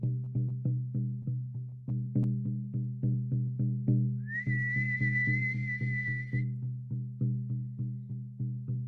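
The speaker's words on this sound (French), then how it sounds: "j'entends déjà le chef danseur qui siffle la fin de la danse, la fin de la cérémonie." A sustained whistle blast from the lead dancer, marking the end of the dance and ceremony, rings out for about two seconds over a steady, rhythmic drumbeat that continues throughout.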